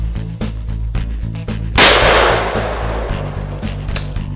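A single loud blast from an old single-shot Cooey shotgun fired outdoors at a pattern target, a sharp crack with a long decaying tail, over a steady low engine-like hum.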